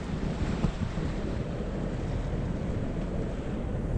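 Waves wash against a sailboat's stern on open, grey sea, mixed with steady wind buffeting the microphone; a continuous, dense rushing without voices.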